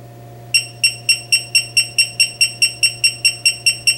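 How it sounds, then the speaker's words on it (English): Low-voltage alarm on a 48-volt on-board battery charger gives loud, sharp electronic beeps at a steady, moderately quick pace. They start about half a second in over a constant low hum. "I'll decrease the voltage across the leads to the point where the alarm is first heard."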